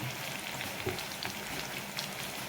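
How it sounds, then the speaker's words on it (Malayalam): Chicken 65 pieces deep-frying in plenty of hot oil in a small pan, a steady dense sizzle and crackle with scattered pops, continuous and close, with no voices. "എണ്ണ നന്നായിട്ട് തിളച്ചെടുക്കുന്നതിലേക്ക് നമുക്ക് ഓരോ പീസായിട്ട് ഇതിലേക്ക് ഇട്ട് കൊടുക്കാം."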